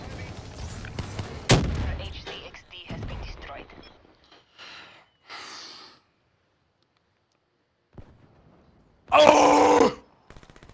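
Suppressing gunfire in a first-person shooter video game comes as a sharp loud shot and scattered bursts, with short gaps and a later burst of noisy fire, and occasional voice sounds in between.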